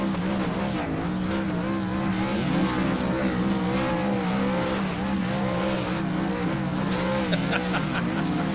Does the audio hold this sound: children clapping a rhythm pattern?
no